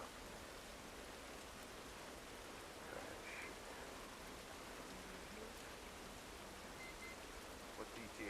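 Steady rain falls in The Last of Us video game, a continuous soft hiss of drops on surfaces with a few faint tonal sounds, heard alone without talk.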